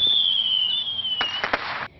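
A firework whistles as it rises, then bursts into a quick cluster of sharp crackling pops in a Guthrie neighborhood, loud and fairly near, before fading out.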